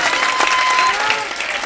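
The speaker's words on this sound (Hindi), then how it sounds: "एक बार पूरा पिंडाल अपने लिए ताली बजा करके इजाजत दे मुझे।" Audience applause fills a mushaira pavilion in Bakhtiyarpur, Bihar: a dense, steady wash of clapping from a large crowd, loud and sustained throughout with no gaps.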